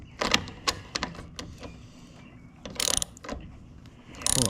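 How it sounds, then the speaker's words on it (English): A socket ratchet works on bolts of a John Deere lawn mower, producing faint, close clicking bursts and metallic taps in irregular spurts. "Now I'm gonna start taking these bolts out of here."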